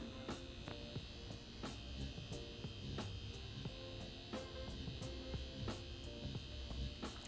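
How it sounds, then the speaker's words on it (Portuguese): A micropigmentation dermograph with a single-point needle, run at a lowered speed for lip contouring, gives a steady, faint electric buzz with a constant whine and small regular ticks, close and without talk. "Eu tô trabalhando com a agulha de uma ponta, a velocidade um pouco mais baixa do que eu uso para fazer fios no dermógrafo"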